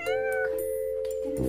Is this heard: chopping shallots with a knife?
no